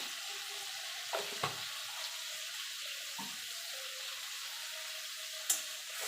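Spice masala with turmeric and Kashmiri chilli powder frying in a pan for a hilsa in mustard curry, a soft, steady sizzle with a few sharp knocks of stirring.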